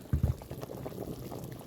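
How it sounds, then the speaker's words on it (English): Zuppa Toscana soup with thinly sliced potatoes bubbles at a rolling boil in a pot, close up. A couple of louder gurgling pops come at the start, then a steady, softer simmering burble. "as you can see, it's boiling real well right now"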